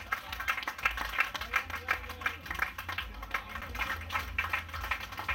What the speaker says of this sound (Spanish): reina de turismo y cultura, un aplauso